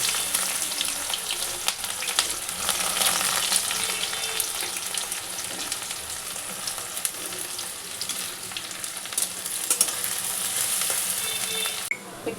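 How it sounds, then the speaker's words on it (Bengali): Onion, green chili, coriander and garlic fry in a hot pan, giving a steady, close, continuous sizzle and crackle that holds without a break, with no talking over it. "ভেজে নিচ্ছি।"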